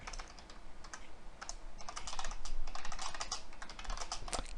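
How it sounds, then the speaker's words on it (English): Close, rapid clatter of fingers typing on a computer keyboard, a dense stream of key clicks that swells a little partway through, with no one speaking. "Can't talk and type at the same time apparently."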